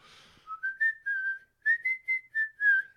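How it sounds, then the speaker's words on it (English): A person whistles a short tune into a podcast microphone, a clear close melody of about nine separate notes with brief pauses and no talk. "You whistle inwards when you're whistling into a microphone."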